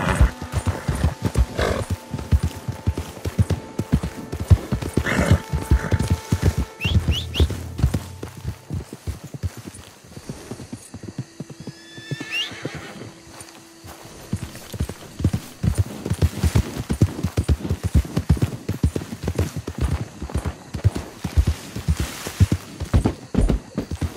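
Hooves clip-clop steadily as a Piebald Tobiano Hungarian Halfbred and an Arabian travel in Red Dead Redemption 2, crisp rhythmic hoofbeats that ease into a quieter lull midway before picking up again.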